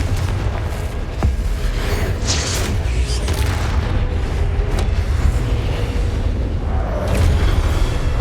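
Spell blasts in Hogwarts Legacy on PS5 make a dense, loud stretch of booming game combat with bursts, pops and rumbling impacts layered over continuous background effects and score.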